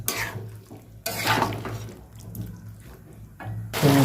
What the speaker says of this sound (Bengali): ভালো করে নেড়ে চেড়ে কষে নেব।